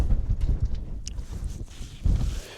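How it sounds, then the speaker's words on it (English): Strong, cold, biting wind gusting across the open summit of Mynydd Mawr mountain, a loud, rumbling buffet against the microphone that surges and eases, with a brief higher whistle midway and no speech. "You got that biting wind"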